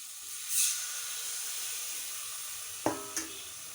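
Water poured into a pan of hot frying spices gives a steady hiss and sizzle, with a brief surge early and two sharp clinks of a utensil near the end.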